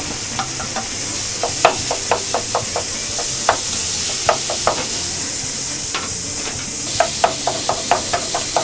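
Doubanjiang chili bean paste and minced meat stir-frying in a pan, with a steady sizzle broken by repeated sharp scraping and clacking strokes of a utensil against the metal, close and fairly loud.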